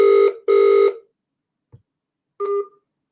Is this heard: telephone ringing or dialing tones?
yes